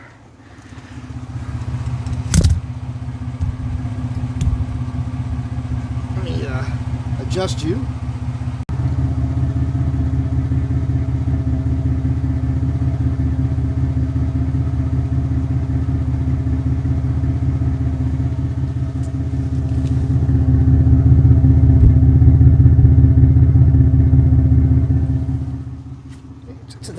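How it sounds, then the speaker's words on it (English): Chevrolet Astro 4x4 van idling with a Flowmaster muffler, a steady low rumbling exhaust note that holds for most of the clip, swells louder near the end, and carries a few brief clanks and a voice. "I want you to hear this exhaust note, because some of you have a problem with the Flowmaster."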